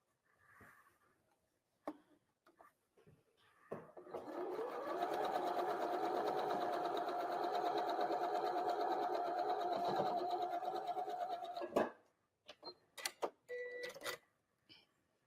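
A sewing machine stitches quilt block pieces together for a Block of the Month quilt, running in one steady, close burst of about eight seconds after a few faint handling clicks, with light taps and rustles as it stops.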